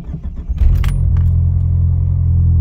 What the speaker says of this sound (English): All right, new starter's in the car. She fired right up